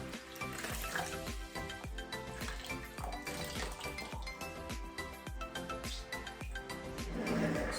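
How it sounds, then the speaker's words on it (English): Water splashes and runs as a cheesecloth is rinsed in a kitchen, with a continuous close watery sizzle broken by soft clinks and rhythmic squelches throughout. "we are going to quickly wash our cheesecloth as well"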